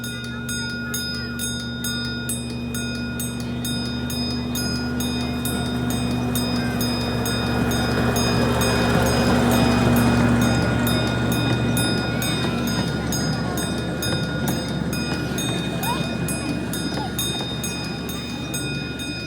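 A zoo train pulls into a station with a loud, sustained rumble and steady mechanical hum that swells in the middle, plus a rapid high-pitched ticking pulse throughout.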